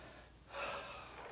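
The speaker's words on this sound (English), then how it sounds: "A little bit of breathing." A person breathes heavily between sets of light-weight training, a faint inhale followed by a longer, louder huffing exhale, close and alone against a quiet background.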